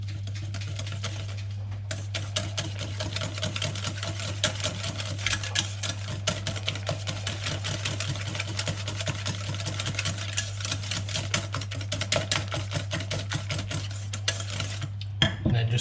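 Milk being stirred into Yorkshire pudding batter, a fast steady clatter of whisk against bowl running continuously, close by over a constant low hum.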